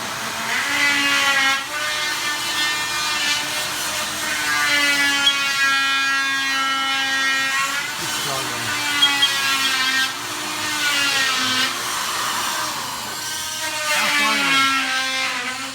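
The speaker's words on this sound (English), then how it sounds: "Today we're going to check out Hob's drilling technique" A power drill with an extension and a dull bit boring into wood during a plumbing repair, its motor whining steadily at high pitch and bogging briefly as it works through the material, heard close up.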